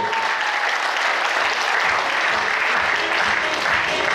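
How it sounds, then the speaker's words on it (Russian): Dense, sustained audience applause at a university KVN comedy contest fills the hall at an even, loud level throughout. "под ваши громкие и несмолкаемые аплодисменты, конечно же"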